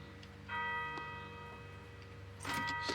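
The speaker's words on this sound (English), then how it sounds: "someone's ringing that bell" A bell rings in Gold Rush: The Game, sounding as a sustained ringing tone with a couple of struck peaks over a quiet background, without any talk.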